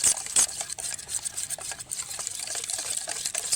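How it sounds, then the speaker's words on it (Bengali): A hand beater whisks rice-flour batter with mustard oil in a bowl, a fast, steady, close-up swishing and tapping rhythm with no voices. "এইটাকে ভালোভাবে একটা হ্যান্ড বিটার দিয়ে মাখিয়ে নেব"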